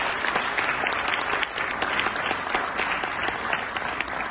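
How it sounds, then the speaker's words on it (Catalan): An audience at a school network gathering applauds students and teachers, a steady, loud burst of many hands clapping together throughout. "vull demanar un aplaudiment per a totes aquestes persones"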